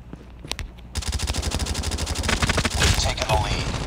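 Rapid automatic gunfire in the mobile shooter Call of Duty Mobile, a dense sustained burst of close, loud shots after a brief quieter opening with a few isolated pops.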